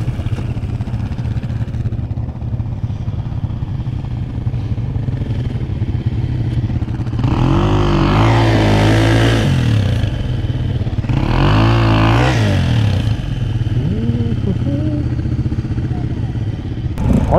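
A quad ATV with LED lights up front idles with a low steady rumble, then revs hard twice in strong rising bursts, each dropping back to idle, with faint talk in the background.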